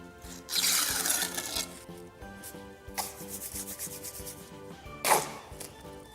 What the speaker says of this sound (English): That little snap on the trowel.